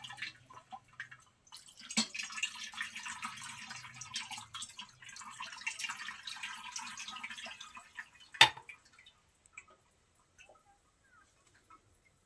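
Cold water pours over boiled homemade pasta in a soft, steady stream for several seconds. Light dripping follows, with one sharp knock of a vessel before it fades to near silence.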